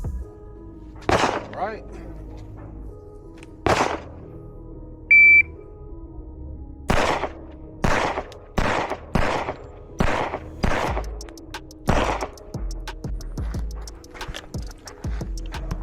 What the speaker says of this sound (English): we about to shoot the rest of these 40s